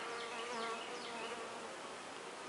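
Italian honey bees buzz inside a shipping package, a dense, continuous hum of many wings close up, with individual bees' tones rising and falling through the swarm.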